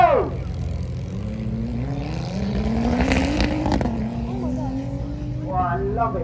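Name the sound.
McLaren P1 hypercar launching and accelerating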